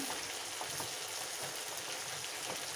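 Coriander powder roasts in hot oil for a Kerala garlic prawn curry, giving a soft, steady sizzle with faint crackles, close and quiet, running evenly throughout.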